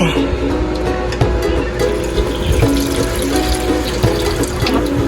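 Tap water runs steadily into a bowl to cook mung beans for monggo with coconut milk, splashing loud and close while people talk over it.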